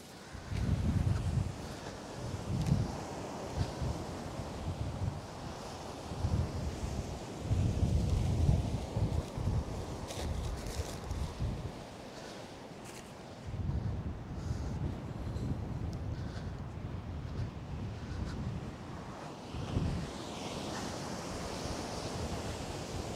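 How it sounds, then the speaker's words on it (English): Strong wind gusts across a Southbourne beach during sea fishing, buffeting the microphone in loud, uneven roaring surges over a steady rush of surf, with no talking. "it's pretty windy out here"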